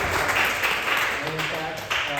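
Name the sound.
applause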